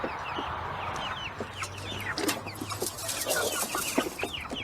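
Chickens at a backyard coop cluck and chatter in short, soft bursts, with several birds calling close by and irregularly over quiet outdoor background.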